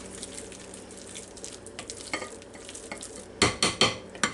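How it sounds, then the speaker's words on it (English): Hummus being stirred into a roasted red pepper potato salad, a soft mushy scraping under steady kitchen hum that turns into several louder, distinct stirring strokes near the end. "We're just going to stir it up."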